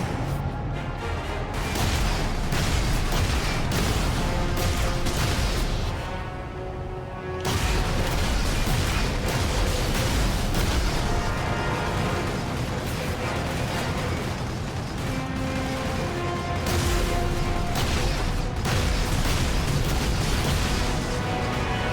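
Explosions in Warhammer 40,000: Space Marine: a dense, loud wall of booming blasts and crashing combat noise, continuous apart from a brief dip partway through.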